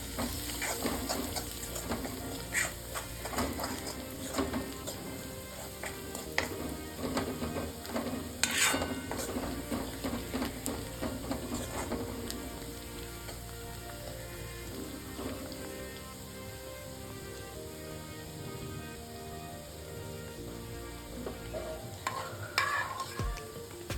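Chili powder and spice masala stirred into an onion-garlic cooking mixture in a pot, with a steady sizzle and repeated scraping and clinking of a spoon, fairly quiet and without talk.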